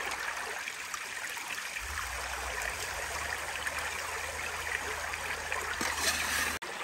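Stream water rushes steadily through a small gold-prospecting sluice in bear country, a continuous close wash of flowing and trickling water with a low rumble joining partway through.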